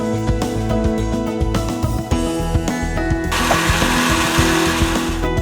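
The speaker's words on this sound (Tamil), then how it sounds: "இப்போ நம்ம மிக்ஸி ஜாருக்கு மாற்றிக்கலாம்" A mixer grinder grinds black pepper and cumin, whirring loudly and continuously close by, a high motor whine with rattling, grinding texture that grows harsher partway through.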